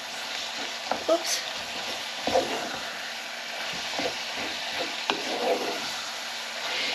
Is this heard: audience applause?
no